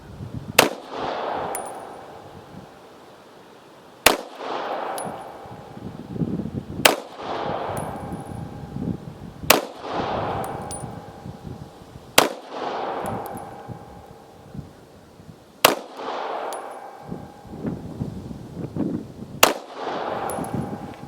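Taurus 709 Slim 9mm pistol fired at a range, eight sharp loud shots spaced roughly every two to three seconds, each followed by a brief echoing decay.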